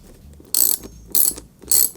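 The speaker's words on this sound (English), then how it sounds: "you want to take off these 2 bolts that are holding it in place" Three separate bursts of a ratchet wrench clicking as it loosens the rear seat bolts on a Kawasaki Z125 Pro motorcycle, each burst a quick close metallic whirr with quiet gaps between.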